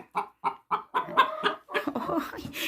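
Hens cluck in a coop while laying eggs, a run of evenly spaced clucks close by that builds into a busier, overlapping cackle.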